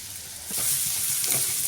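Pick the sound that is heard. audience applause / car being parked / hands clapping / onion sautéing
onion sautéing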